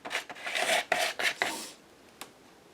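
A card scrapes black gesso down a paper page in a mixed-media journal, giving a few short, close, raspy strokes in quick succession, then a pause and one last brief scrape.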